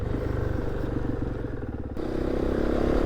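A rally motorcycle with long-travel suspension rides over rough terrain, its engine throbbing in a steady pulsing rhythm mixed with rattling clatter, close and loud throughout, with the pitch shifting upward partway through.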